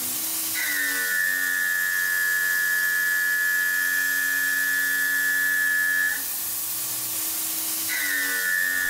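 Tormach 770 CNC mill with a Lakeshore Carbide TAS rougher cutting metal, a steady high spindle whine held for several seconds under a constant machine hum, briefly stopping and then starting again, close and fairly loud.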